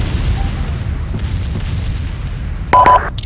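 Frag grenade going off in a multiplayer video game, a short burst of blast near the end of the clip after a low rumbling background, moderately loud and close.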